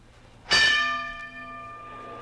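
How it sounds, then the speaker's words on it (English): A boxing ring bell is struck once, its bright metallic tone ringing out loud and clear, then decaying slowly over about two seconds with no voices. "There's the bell."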